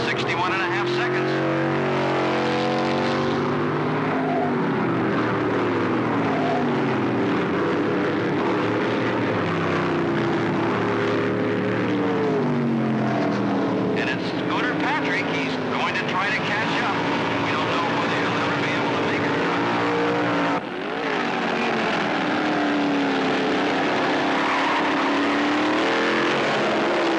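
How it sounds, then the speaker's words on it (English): Race cars, including a red and white number 74, roar around a track as a driver passes slower cars, with a steady, loud engine drone and shifting pitch heard under continuous commentary. "But Scooter, even without the airfoil, is turning it on, already passing slower cars."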